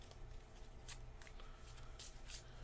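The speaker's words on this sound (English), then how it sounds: "then shuffle and draw 2 more" A deck of cards is shuffled close up, soft riffling bursts and flicks repeating over a few seconds, quiet and alone.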